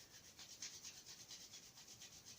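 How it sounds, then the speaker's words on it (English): Two hands rub together in quick back-and-forth strokes, a faint rhythmic swishing of skin on skin, close and steady with no talking. "bring your hands together and just start to very gently, just moving them, rubbing them off one another"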